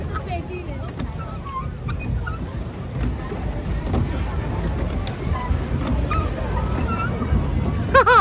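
Fast boat ride at Nicco Park amusement park, with steady rushing water and wind noise throughout, voices talking and calling out over it, and a brief sharp squeal near the end.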